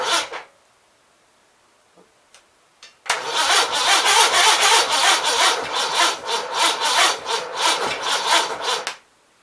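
Onan B43 engine cranking over on a charger boost, a steady rough rapid churning that runs loud for about six seconds after a few faint clicks, then stops abruptly.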